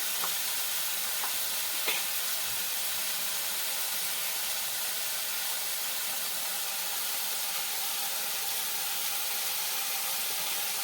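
Cumin and coriander seeds fry in hot oil in a pan while fish curry is being cooked, a steady, dense sizzle and hiss that runs unbroken throughout. A few faint clicks of stirring sit under it.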